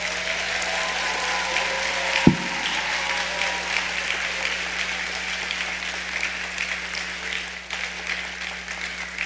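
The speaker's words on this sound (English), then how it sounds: "Please give them a round of applause." Sustained applause from the audience at a high school graduation awards ceremony, a broad steady wash of many hands clapping with one sharp thump near the start and a low hum underneath.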